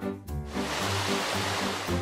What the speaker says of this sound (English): Oh, there is a creek, named after the town.